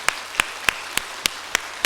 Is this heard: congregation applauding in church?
yes